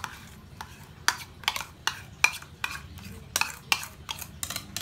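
A spoon scrapes and clacks against a bowl in a steady run of about a dozen sharp strokes, folding a cooked vegetable salad of egg, potato, carrot and cucumber dressed with mayonnaise and Thousand Island, close and clear with no talk.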